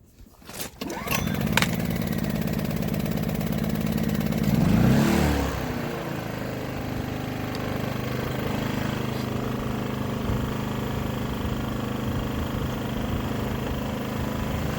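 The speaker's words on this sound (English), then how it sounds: "Let's fire up the generator." Generator starting up after a pull, a quick rising catch, then a loud steady engine drone that surges briefly and settles into an even running hum, close and continuous without talk.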